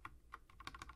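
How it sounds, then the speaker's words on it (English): An IP address being typed on a computer keyboard: about a second of quick, light keystrokes in an irregular rhythm, close and quiet. "type in the IP address of the server"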